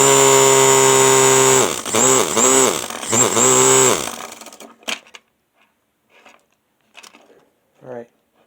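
Small electric motor overdriven at 12 volts by AA alkaline batteries whines loudly for about four seconds, dipping in pitch in three quick pulses before cutting off, followed by faint scattered sounds and brief voices.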